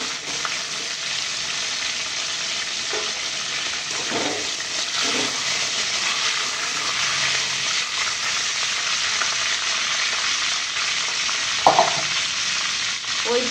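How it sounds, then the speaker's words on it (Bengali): Pointed gourd (potol) slices frying in hot oil in a pan, giving a loud, constant close-up sizzle throughout, with a few soft stirring clinks and one sharp knock near the end, and no talking. "এখানে পটল ভেজে দিচ্ছি"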